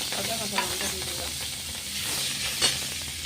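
Crushed ginger and green chilies sizzle loudly in hot oil with five-spice tempering for a rohu fish curry, a steady close frying hiss with a couple of stirring scrapes.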